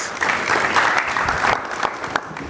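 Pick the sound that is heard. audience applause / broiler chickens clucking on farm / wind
audience applause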